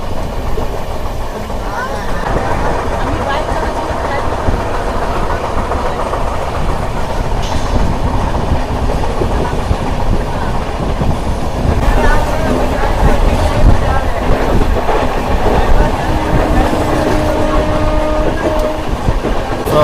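The Bokaro Express, a passenger train from Dhanbad to Alleppey, rumbles loudly and continuously along the tracks, with rhythmic rattling of the wheels and faint tonal squeals, heard close up throughout.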